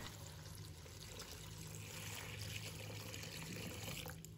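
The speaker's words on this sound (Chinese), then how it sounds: "切好后直接放入盆中，倒入清水" Clear water poured into a basin of cut taro chunks: a steady, soft splashing and trickling flow that runs continuously and swells a little toward the end.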